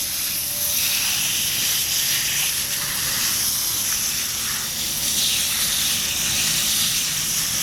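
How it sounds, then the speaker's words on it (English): A Traxxas RC car being rinsed off with sprayed water after cleaning, giving a steady, close hiss and spray that runs without a break from start to finish, with no talking. "we're gonna rinse it off once again just to get all the simple green off"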